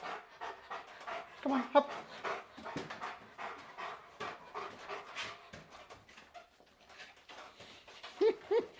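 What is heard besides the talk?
dog panting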